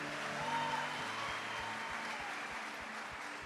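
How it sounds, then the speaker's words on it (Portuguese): Applause in a church service for the Lord, steady and sustained crowd clapping over a low rhythmic thump of accompanying music. "Uma salva de palmas para o Senhor."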